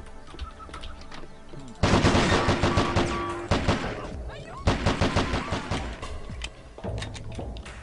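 Rapid bursts of video game gunfire crack repeatedly in close, loud volleys, separated by short pauses, with faint background game noise between.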